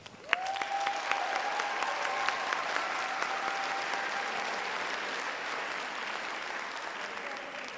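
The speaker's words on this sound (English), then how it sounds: "Round of applause" Sustained applause from a large audience at a university nursing graduation ceremony, steady and full throughout, with a faint held tone running beneath the clapping.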